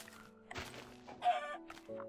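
Chicken clucks in short bursts as a sound effect, several choppy squawks spread over a couple of seconds against a quiet background.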